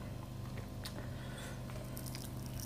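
Crispy fried chicken being eaten at close range: soft bites and crunchy chewing, quiet and moist, with small crackles over a low background hum and no talking.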